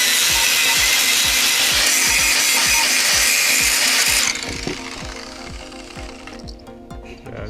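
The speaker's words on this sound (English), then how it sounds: "Just grinding them little bits out there" A grinder bites into metal near the bearing carrier bolts on a Land Rover TD5 Defender axle, a loud harsh rasp with a rhythmic pulsing beneath that cuts off partway and gives way to quieter spinning-down and workshop noise.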